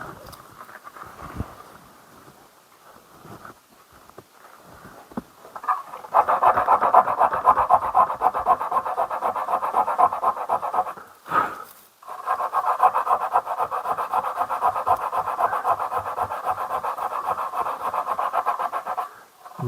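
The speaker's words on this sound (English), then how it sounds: "I could maybe hit it with a little bit of sandpaper." A part from a vintage Hoover vacuum cleaner is rubbed by hand with sandpaper. Close, steady rasping strokes run for several seconds, pause briefly, then continue evenly, with no talk.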